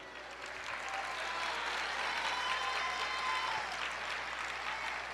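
A church congregation bursts into sustained applause during a worship service, a dense wash of clapping that stays loud and steady throughout.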